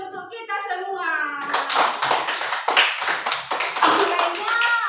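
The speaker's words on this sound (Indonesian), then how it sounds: "Tepuk tangan untuk kita semua" Children in a classroom clap together for a group's discussion presentation, a dense burst of many small hands that starts after a moment of talk and continues steadily to the end, with a teacher's voice audible at the start.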